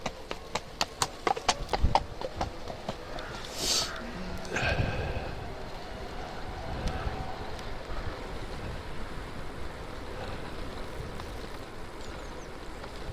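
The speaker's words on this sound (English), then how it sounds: "Yep, we've got a horse." Hooves clip-clop in a quick, crisp rhythm as a horse passes on a ride through the Yorkshire Wolds, the beats fading into outdoor wind and rustle with a brief voice greeting.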